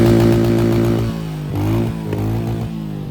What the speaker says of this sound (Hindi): ये देखो एग्जॉस्ट का साउंड सुनो, ये है भाई इसका आइडियली साउंड। और करते हैं थोड़ा से रेव।